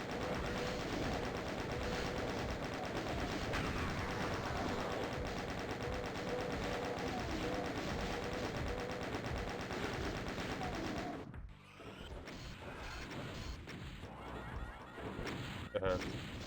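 A cannon fires repeatedly in Doom II, a dense, continuous barrage of rapid blasts that runs loud for most of the stretch, then drops away into scattered, quieter game sounds near the end.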